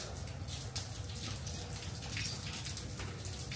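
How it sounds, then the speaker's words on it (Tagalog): Heavy rain falling steadily in a dense, even wash of patter and splash, fairly close and continuous with no talk over it. "Kusog yun na ulan."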